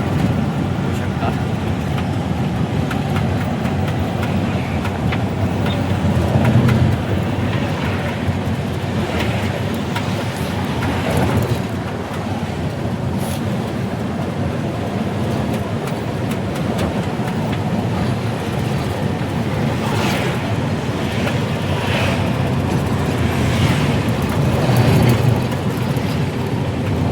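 A mini truck speeds along a ghat road in Karnataka, its steady engine and road roar droning continuously throughout, with faint voices now and then.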